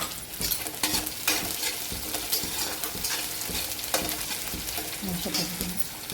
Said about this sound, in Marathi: दोन चार हिरव्या मिरच्या मी अशा कापून टाकलेल्या आहेत